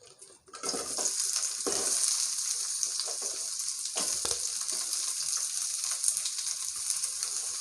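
Onions and garlic sautéing in sesame oil for a village-style fish curry, a steady loud hissing sizzle that starts abruptly and runs continuously, with occasional stirring knocks, close up and without speech.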